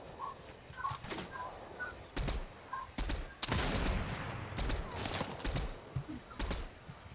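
Fortnite gunfire sounds in sharp, separate shots and short bursts at a moderate distance, with faint chirpy calls in the background early on.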